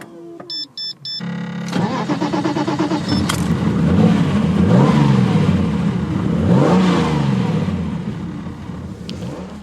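A TVR Tamora with a standard exhaust starts up after a few short electronic beeps, the engine cranking and catching, then revving loudly several times in rising and falling blips before settling, close by with no talking.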